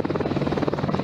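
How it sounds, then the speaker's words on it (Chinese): An AH-64E Apache attack helicopter lifts off from Longtan during a military readiness drill, its rotor beating in a rapid, steady thump that is loud and close, with no voices. "AH-64E 阿帕奇直升机从龙潭升空，配合加强战备演练。"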